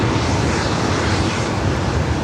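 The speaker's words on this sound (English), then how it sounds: "E175 about to head out to Phoenix, Delta Connection, 3894." Steady, loud broadband roar of a Delta Connection Embraer E175 regional jet at Los Angeles International Airport, a continuous engine rush with no pauses or voices.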